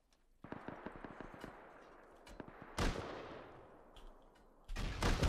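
Gunfire in the video game Rust: a rapid string of sharp shots in the first second and a half, then scattered single reports and a louder burst near the end.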